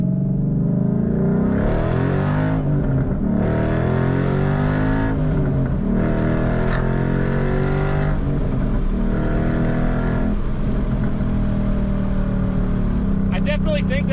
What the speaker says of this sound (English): now we're going to get some in-the-car footage of the Flowmasters.